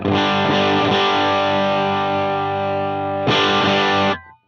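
A heavily distorted electric guitar through a Dumble-style amp model, miked with a 57, holds a thick, buzzing chord, then strikes it again with a fresh attack before cutting off abruptly.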